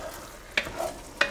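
A spoon stirs Pecorino Romano cheese into a pan of shrimp risotto, with a few soft, wet scraping sweeps over a quiet sizzle, close and faint.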